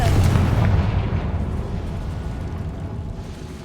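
A Confringo blasting spell in the Hogwarts Legacy video game goes off in a loud, rumbling explosion that bursts at once and then slowly fades out. No one talks over it.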